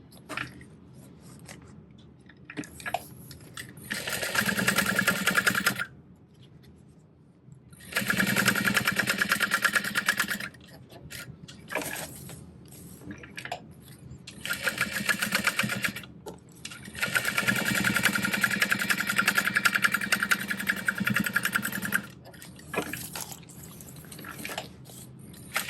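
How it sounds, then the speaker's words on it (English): A sewing machine bastes around the edge of a backpack panel in several bursts of rapid close stitching, separated by short pauses and quiet fabric handling. "So I'm gonna start basting all the way around the edge."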